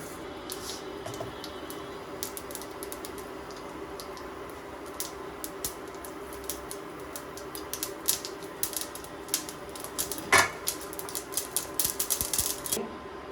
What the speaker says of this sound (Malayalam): കുറച്ച് കടുക് അത് വറക്കാനായി ഇടുക.